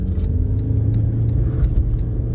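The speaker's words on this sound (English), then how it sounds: "I'll put the car into power mode and I'll floor it now." A Toyota Prius floored in power mode with wheel spin, heard as a loud, close, steady rumbling drone of road and motor noise without any talk.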